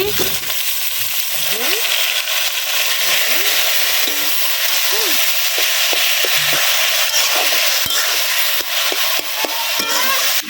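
Taro leaves hitting hot oil in a pan on a clay stove set in a garden, a loud continuous sizzle with spatula scrapes and clinks, no talking.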